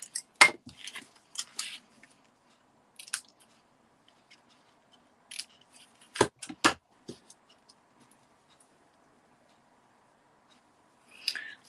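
Scissors trim ribbon for a handmade Christmas card in a handful of short, crisp snips and clicks, separated by quiet pauses.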